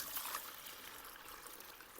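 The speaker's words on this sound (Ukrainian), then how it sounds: "О, тепер він пішов качати." Procraft PN17 drainage and sewage pump pumping water during a test, giving a steady gushing, trickling stream sound that runs continuously and fairly quietly without a break.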